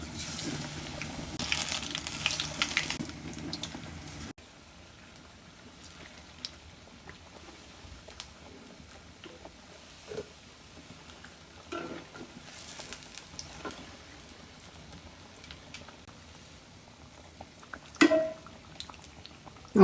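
Cauliflower pakora battered in thick gram-flour coating dropped into hot oil, a soft steady sizzle and bubbling with a few small clinks, quiet throughout.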